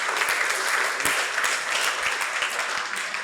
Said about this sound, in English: Let's clap for him too.